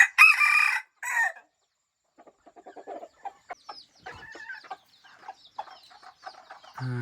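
A farmyard rooster crows nearby in a couple of loud bursts, followed by softer clucking and chattering from hens and chicks in the flock.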